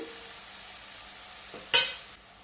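Steady low sizzle from a pan of sautéing vegetables, then a sharp scraping stir of a spatula that briefly flares louder before fading back to quiet frying.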